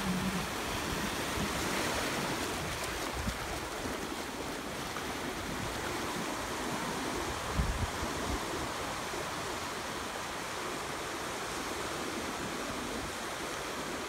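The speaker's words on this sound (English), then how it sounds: "the sound of the waves crashing on the rocks" Pacific Ocean waves crash on the rocks of a Vancouver Island beach, a soft, steady wash of surf heard at a distance and fairly faint, with no voices.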